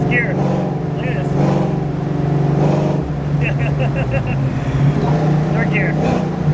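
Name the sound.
supercharged 1993 Ford Mustang Fox Body engine accelerating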